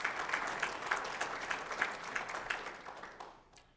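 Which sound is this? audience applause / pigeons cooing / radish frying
audience applause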